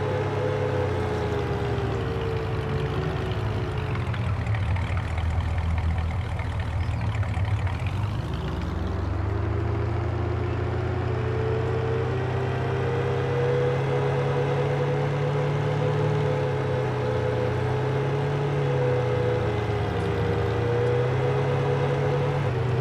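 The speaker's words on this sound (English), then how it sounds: "hear the tractor in the background." Tractor engine idling in Farming Simulator 19: a continuous low mechanical rumble with a steady hum that wavers briefly in pitch partway through, loud and constant, with no talking.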